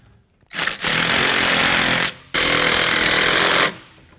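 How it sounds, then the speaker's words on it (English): Power tool, likely an impact driver, tightening carriage bolts on a Tilmor Power Ox frame during assembly: two loud, sustained close-up bursts of mechanical hammering, each lasting over a second, separated by a brief pause. "start by tightening this one down here"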